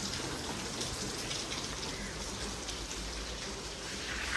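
Rain falling steadily in a dense, even hiss of drops on surfaces, soft and continuous without pause, no voices.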